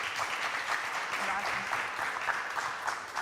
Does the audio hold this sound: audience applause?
yes